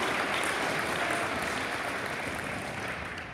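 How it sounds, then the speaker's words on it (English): Audience applause at a high school student assembly honoring Navy veterans, a sustained full clapping sound that stays strong and then begins to taper at the end. "let's give a round of applause, thank them for their service"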